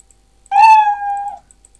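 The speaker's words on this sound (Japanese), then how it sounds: "これスプライト、これで無言で動いて、うるせえミヤーンって鳴くんだけど" A single cartoonish cat meow, about a second long, clear and close against silence, played as the sound effect of a Scratch sprite.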